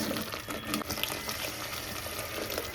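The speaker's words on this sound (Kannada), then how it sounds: "ಮತ್ತು ಇದಕ್ಕೆ ನೀರು ಹಾಕೊಳ್ಳೋಣ" Water pours steadily into a pot while egg sambar is being cooked, making a continuous broadband splashing rush that carries on for the whole stretch, with no voices over it.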